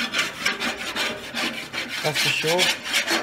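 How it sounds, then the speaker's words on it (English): Metal scraper rubbing across a barbecue grill plate, a steady run of rough scraping strokes close by, with a voice briefly speaking near the end. "I'm just going to scrape the barbie"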